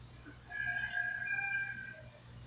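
A rooster crows once at a moderate distance, a drawn-out, strained call rising and holding over faint farmyard background noise.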